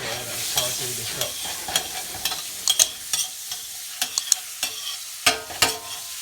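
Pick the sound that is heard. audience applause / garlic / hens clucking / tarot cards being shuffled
garlic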